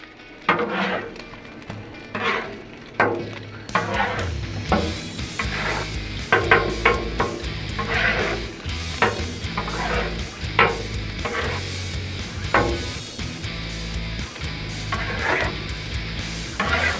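Eggs and chorizo being scrambled on a Blackstone flat-top griddle: a steady sizzle of frying with repeated scraping and stirring strokes of a spatula across the hot steel, close and continuous, with no talking.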